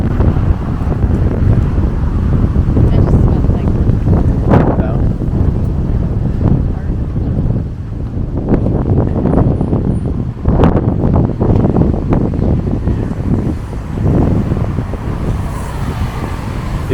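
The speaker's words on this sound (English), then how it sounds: "Sorry about the wind." Wind buffets the camera microphone outdoors in Geneva, giving loud gusty rumbling thumps that come and go across the whole stretch, with faint background sounds beneath.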